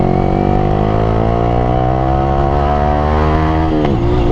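A Yamaha R15 V3 motorcycle fitted with a Ronin Hanzo exhaust set to silent mode idles and revs gently. A steady, close engine drone rises slowly in pitch and then drops at the end.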